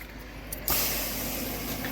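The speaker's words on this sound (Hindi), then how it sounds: "पानी मारना जरा रिम के ऊपर" Water is sprayed onto a car's wheel rim on a mountain road trip from Rajouri to Srinagar. After a brief quiet start, a close, loud, steady hiss of spray bursts on and keeps going to the end.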